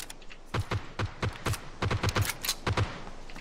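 Gunfire in the PUBG video game on the Vikendi map, a series of crisp, evenly spaced single shots in quick rhythm, fairly close and loud, with no talking over them.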